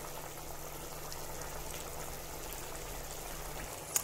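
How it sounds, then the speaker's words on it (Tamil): A low, steady bubbling simmer of chicken ketchup sauce in a covered pan continues throughout, soft and muffled, with a single small click near the end. "ஸோ நல்லா கொதிக்குது பாருங்கள்."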